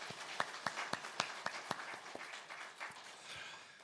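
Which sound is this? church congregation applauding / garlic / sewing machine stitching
church congregation applauding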